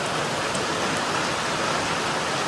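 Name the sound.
heavy rain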